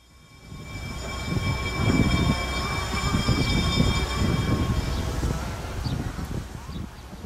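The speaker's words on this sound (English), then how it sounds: "Side of the train we are passing by." A historic train of the Hawaiian Railway Society on Oahu rolls past, its rumbling cars and wheels building to a steady near clatter with faint whistling tones, then easing slightly toward the end.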